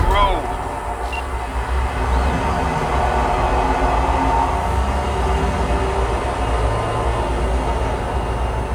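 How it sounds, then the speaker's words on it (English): A train pulling out, a loud continuous low rumble and rolling noise that holds steady throughout, with voices mixed in. "the train's leaving"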